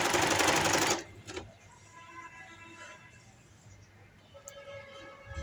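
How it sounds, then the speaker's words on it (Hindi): A sewing machine stitches a velvet frock in a loud, fast, steady run that stops after about a second, leaving quiet handling sounds. "इसी शेप में हल्का हल्का इसे हम घुमाते जाएंगे और सिलाई लगाते जाएंगे।"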